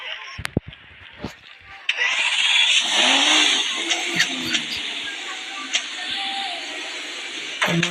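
A car engine in a video game, a whiny, synthetic-sounding drone that starts up after a few clicks and holds steady with small rises, while a person talks over it.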